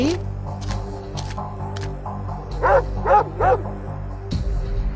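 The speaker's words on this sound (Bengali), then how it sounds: "ওরে বাবা, হে কুকুরটা কত বড়!" A big cartoon dog barks three times in quick succession, fairly close and loud, over a soft background hum.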